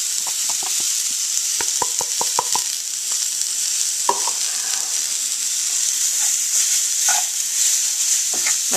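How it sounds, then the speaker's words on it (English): Chopped vegetables hit a hot roux for shrimp étouffée and sizzle steadily, a constant frying hiss with a few sharp clatters of a spoon stirring and scraping the pot, close and alone with no talking. "Now you just dump your vegetables in."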